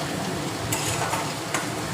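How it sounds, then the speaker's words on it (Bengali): Chopped tomatoes fry for chickpea ghugni as a utensil stirs them, a steady, close hiss broken by a few sharper scraping strokes in the pan, with no voices. "পরিমাণ মতো টমেটো কুচি দিয়ে নাড়তে থাকলাম।"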